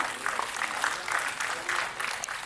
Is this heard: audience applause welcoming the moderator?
yes